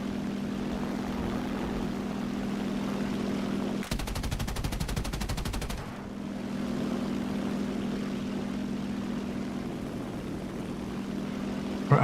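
Anti-aircraft guns at an airfield open up in a naval combat video game, a rapid burst of evenly spaced shots lasting about two seconds over a steady engine drone, then the drone carries on alone.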